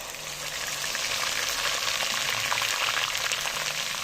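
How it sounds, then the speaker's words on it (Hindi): Onion paste fries with whole spices in a pot, making a soft, continuous sizzle and hiss with faint bubbling, close and steady without any talk. "अच्छी तरह से प्याज के पेस्ट को भूनेंगे हम।"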